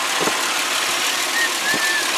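A 2004 Ford Explorer XLS 4WD with a 6-cylinder engine idles steadily close by, a constant mid-pitched hum with faint soft knocks and a brief whine.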